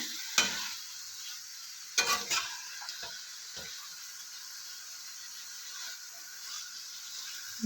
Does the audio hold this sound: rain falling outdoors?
no